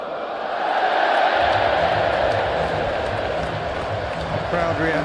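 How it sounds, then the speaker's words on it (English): A large cricket stadium crowd roars in a dense, sustained wash of noise at an England match, loud and continuous throughout, with a commentator's voice and some chanting rising near the end. "Crowd reaction tells you all you need to know."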